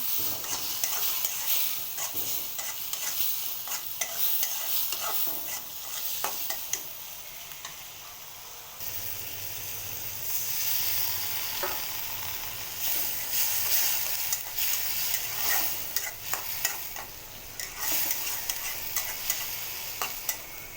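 Pumpkin frying with shrimp, salt, turmeric, chili and coriander powder, stirred in a pan: a continuous sizzle with repeated scraping stirs of the spatula, fairly close, no voices.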